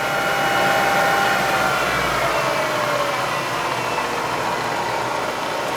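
A Bridgeport 2 hp milling machine head with a 9x48-inch table runs steadily at its top speed of 2,000 RPM with a loose drawbar, giving a loud, continuous motor hum and whir with a faint rattle and no talking.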